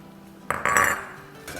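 A utensil stirs a chili spice mixture with green chilies in a metal karahi cooking pot, giving a short burst of scraping and clinking at close range with no talk.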